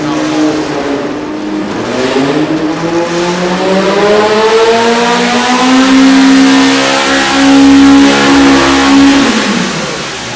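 A built EMPI VW engine revs hard on a dyno in a final run at an engine competition, climbing steadily in pitch, then holding a loud, sustained high-rpm howl before cutting off abruptly near the end.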